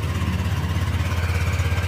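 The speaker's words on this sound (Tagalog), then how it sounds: "Paandarin natin yung ating makina para yung gearings nya sa loob umikot siya ulit" A Honda Click scooter engine runs at a steady idle close by, a pulsing mid-low putter with a regular rhythmic throb and no voices.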